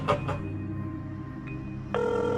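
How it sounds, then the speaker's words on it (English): A telephone rings in a tense, dramatic scene, with steady repeated ring tones sounding close and fairly loud over a low hum, with no talking during the ringing. "it's ringing."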